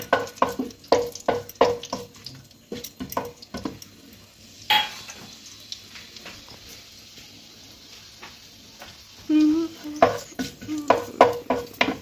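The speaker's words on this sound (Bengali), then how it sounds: "এই গোটা গরম মশলাটা আমি তেলের উপর দিয়ে ভালোভাবে একটু ফ্রাই করে নেব" Whole garam masala, bay leaf, cardamom, cinnamon and cloves fry in oil for veg fried rice, with a soft sizzle under repeated metallic spoon clinks and scrapes against the pan, a quieter stretch in the middle.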